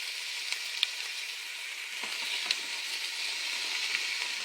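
Vegetables salted and stirred in an Instant Pot for moqueca give a steady, faint sizzle with a few soft clicks and pops scattered through it, no voices over it.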